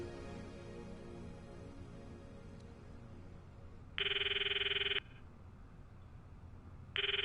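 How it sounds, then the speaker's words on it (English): An outgoing phone call ringing unanswered, two electronic ring bursts about three seconds apart, each lasting a second, over a low murmuring background with no talk. "The ringing continues."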